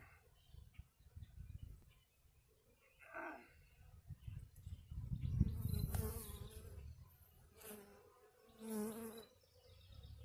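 Honeybees buzzing during a hive inspection, a faint steady hum with brief louder passes as bees fly close, under soft rustling and handling sounds.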